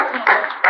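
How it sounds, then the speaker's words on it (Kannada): Audience applause at the second anniversary ceremony of the Cherkadi Shaurya team, Sri Kshetra Dharmasthala: a short, dense burst of crowd clapping that swells near the end. "ಅವರಿಗೆಲ್ಲರೂ ಸೇರಿ ನಾವು ಅಭಿನಂದನೆಯನ್ನು ಚಪ್ಪಾಳೆ ಮೂಲಕ ಕೊಡ್ಲೇಬೇಕಾಗ್ತದೆ"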